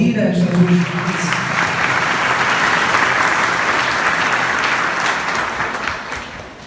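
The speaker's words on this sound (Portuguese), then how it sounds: "Vamos aplaudir a Jesus." A church congregation applauds during a Catholic Mass for first vows, sustained loud clapping filling the space after a brief voice at the start, then fading near the end.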